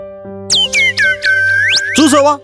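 A mobile phone rings loudly and up close with a chirpy, repeating electronic ringtone of sweeping whistle-like tones, heard alone without talk.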